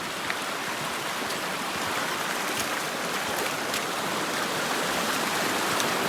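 Steady rushing water of a forest river in winter snow, an even, continuous wash with a faint crackle of droplets throughout, moderately quiet and uninterrupted.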